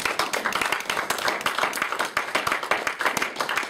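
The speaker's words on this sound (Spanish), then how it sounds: "den un aplauso a Dios" A church congregation claps in praise to God, with dense, rapid, steady hand claps filling the whole stretch at a close and lively level.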